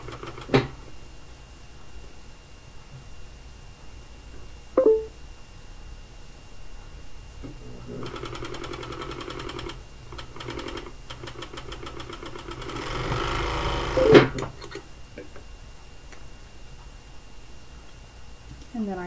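A serger stitches and trims a t-shirt hem in a short burst of fast, even whirring midway through, with softer handling clicks and fabric rustle before and after.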